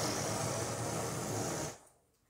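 Unsilenced Mac 10 machine pistol in a video game fires one loud, continuous full-auto burst lasting under two seconds, then cuts off into near silence.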